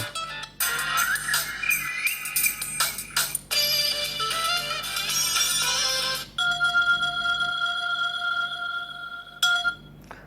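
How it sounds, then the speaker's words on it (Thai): A ringtone plays through the loudspeaker of a Grand O2 phone, a loud, bright electronic melody of shifting tones that runs continuously for about ten seconds, then changes to steady sustained notes near the end. "แล้วเราก็มาลองเลือกดูเสียงเรียกเข้า"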